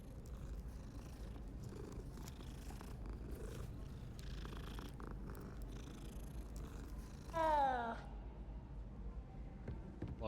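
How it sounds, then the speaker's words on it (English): A cat purrs steadily while being petted in Hogwarts Legacy, a low continuous rumble heard under game music, followed by a short, rising meow-like call. "Pet the cat."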